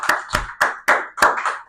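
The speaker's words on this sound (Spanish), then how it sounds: "Dale un fuerte aplauso al Señor" A church congregation claps together in worship, five strong, evenly spaced, rhythmic claps ringing in a reverberant room with no talking.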